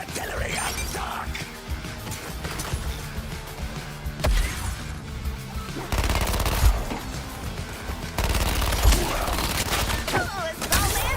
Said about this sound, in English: Focusing artillery on Stark